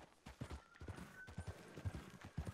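Horses' hooves clip-clopping along a path in the Red Dead Redemption 2 video game, several mounts at a steady walking rhythm, close and distinct, with a faint tonal whine in the background and no talking.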